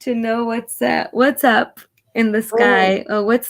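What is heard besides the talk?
No distinct noise like a dog, phone or traffic.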